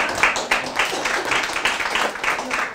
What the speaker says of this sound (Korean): 우리 은선이 한번 박수 한번 하겠습니다